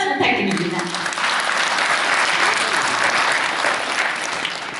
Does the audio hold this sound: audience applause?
yes